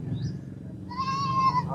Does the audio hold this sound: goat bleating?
yes